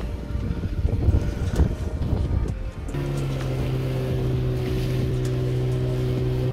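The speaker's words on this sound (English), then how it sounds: "It's pretty windy actually." Wind gusts rough and steady along the Stewart Island coast on a wet day, a continuous blustery roar with a low droning tone joining partway through.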